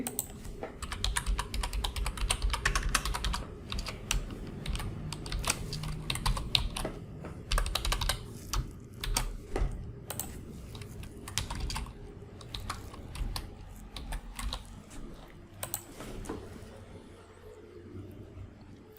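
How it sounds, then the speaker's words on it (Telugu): Rapid typing on a computer keyboard as CSC login ID, password and captcha code are entered, an irregular run of close, crisp key clicks in bursts that continue throughout with no talk. "లాగిన్ మీద క్లిక్ చేసి ఇక్కడ మీ యొక్క CSC ID, password and captcha code కొట్టి సైన్ ఇన్ మీద క్లిక్ చేయండి"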